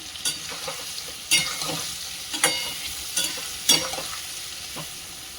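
Turmeric stirred into food frying in a pan, a steady sizzle broken by several sharp scraping spoon strokes at irregular intervals, close and moderately loud with no talking.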